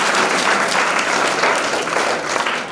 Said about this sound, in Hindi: एक बार फिर से आप लोग ताली बजाएं